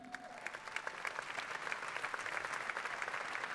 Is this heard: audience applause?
yes